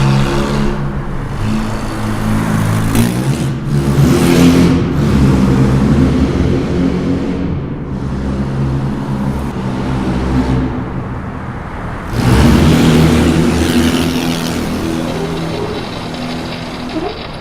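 A 1975 Mercedes 240D diesel engine drones steadily while driving through a tunnel, loud and close with a low rumbling hum that swells briefly near the start and again toward the end as the echo builds.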